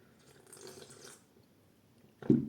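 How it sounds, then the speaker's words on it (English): A quick sip of lemon water, a short close slurp right at the end after a stretch of near quiet. "I have to take a sip of my lemon water."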